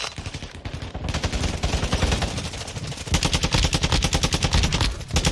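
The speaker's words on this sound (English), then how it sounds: "Somebody else is shooting at me." Rapid automatic gunfire from Call of Duty Warzone on Ashika Island, a dense, loud stream of shots with overlapping bursts that grows heavier and more sustained partway through, with no talking.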